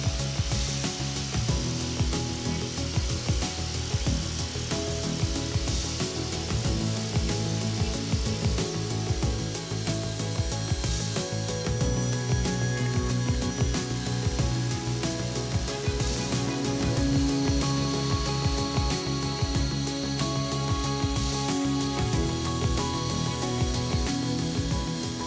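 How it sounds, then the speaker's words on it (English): Wire brushes and emery cloth scouring rust off parts of a Record No 23 quick release vise, a dense continuous gritty scraping that holds steady and loud throughout, no voices present. "I set to with wire brushes and emery cloth to remove the rust and loose material."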